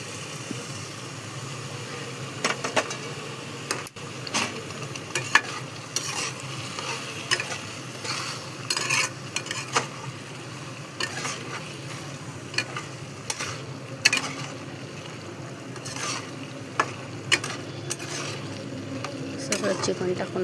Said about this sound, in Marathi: सगळं चिकन टाकून आपण सगळं मिक्स करून घेतलेलं आहे